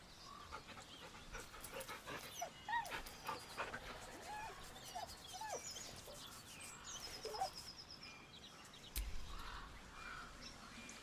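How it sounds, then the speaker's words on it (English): A dog whimpers nervously in Baldur's Gate 3, soft high whines and small yips repeating over a low background hum, close and fairly faint. "The dog whimpers nervously,"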